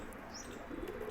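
A young female pigeon around four to five months old, heard faintly in a quick moment of soft wing flutter and low cooing against a steady background hiss.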